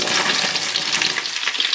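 Root vegetables frying hard in a roasting pan, a close, dense, continuous sizzle and crackle with no talking.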